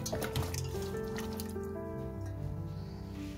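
Wet squishing and dripping as a marinade of dried parsley, garlic granules, lemon juice and honey is mixed by hand in a kitchen, close and steady, over a faint background tone, with no talking.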